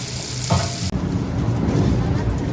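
Small fish sizzle and crackle in hot oil close up, a brief louder burst early on, then steady frying with no talking.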